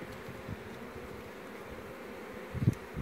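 Honeybees in an open beehive during an apiary colony inspection give a steady, low, diffuse hum throughout, with a brief louder close buzz near the end and no talk.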